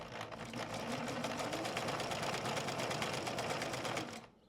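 Sewing machine in the video game Secret Files 2: Puritas Cordis, running in a rapid, steady mechanical rattle for about four seconds before stopping abruptly, heard alone.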